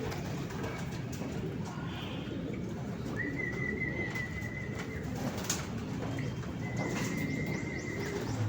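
Racing pigeons arriving at a loft coo softly at a distance, with occasional brief high whistling calls over steady outdoor background noise.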